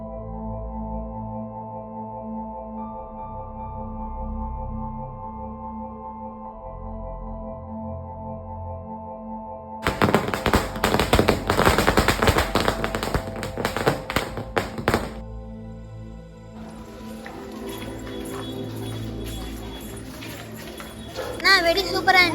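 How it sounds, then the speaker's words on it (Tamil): A 100-wala firecracker string going off for Diwali, heard as a dense burst of rapid crackling pops that lasts several seconds in the middle, with tonal sound before it, more noise after it, and voices around. "அம்மா 100 வாலா சூப்பரா வெடிச்சோமே."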